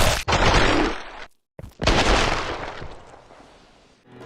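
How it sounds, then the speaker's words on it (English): Loud gunfire bursts and explosive blasts in a round-based zombie shooter video game, two heavy booming hits separated by a brief silence, the second trailing off into a long rumbling decay. "killing a zombie with a headshot makes their head explode, with chunks of meat flying everywhere"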